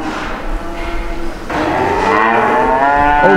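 Cattle on a farm moo loudly and close by, a long, drawn-out low call that swells and holds, with no talk over it.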